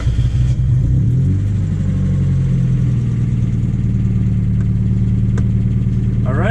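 A Mazda Miata engine idles loudly close by and then climbs in pitch as the car pulls away on a test drive, the revs rising and settling into a steady drone.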